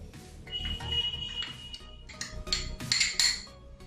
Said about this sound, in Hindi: इस बाउल में मैं ये चना डाल दे रही हूँ